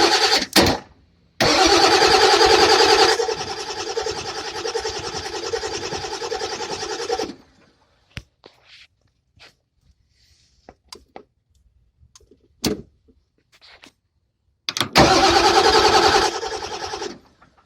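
A truck engine cranks and catches, then runs at a rough idle for several seconds before shutting off, followed by scattered clicks and clunks, then cranks and starts again and keeps running, close and loud.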